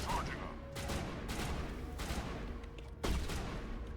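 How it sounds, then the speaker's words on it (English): Gunfire in the video game Mass Effect 1 comes as repeated bursts of shots over a steady noisy background, with a sharper impact near the end. "That's a lot of wall you're shooting."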